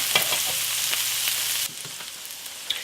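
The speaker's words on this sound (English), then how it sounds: "now I'm going to add my onion, and I'm going to cook it about 5 minutes until it's translucent" Chopped onion frying in butter in a pan over medium-low heat, a steady close sizzle with light crackle that drops quieter partway through, no talking.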